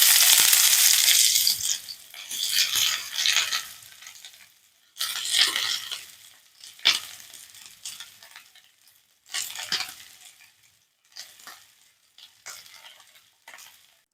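Onions fry in hot oil in a pan, with loud sizzling bursts that rise and fall as they are stirred. Scrapes and pauses break up the sizzle, which grows fainter and more spaced out toward the end.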